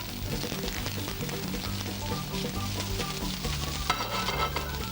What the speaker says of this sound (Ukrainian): На раскаленную сковородку мы ложим лук с тимьяном